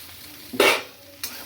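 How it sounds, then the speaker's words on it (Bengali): Onion drops into hot oil in a pan with a sudden loud sizzle that fades over a fraction of a second, followed by a shorter second burst as it is stirred, close by. "এটা খুব ভালো করে তেলে ভেজে নেব। এবার পেঁয়াজটা দিয়ে দিলাম"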